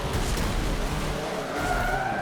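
An off-road buggy in Forza Motorsport 7 skids and spins out, a continuous rough tire scrub over engine drone that rises into a whining squeal near the end, with no talking.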